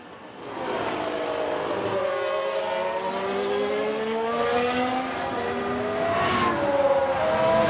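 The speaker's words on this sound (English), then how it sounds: "Looks like Aston Martin have just gained a race position." Formula 1 race cars in the F1 Manager 22 racing game, a continuous loud engine drone with rising and falling pitch as several cars pass, steady throughout and without talk.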